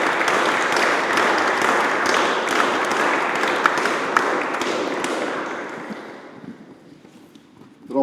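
A conference audience claps in a dense, even patter that holds steady for several seconds, then thins and fades to near silence.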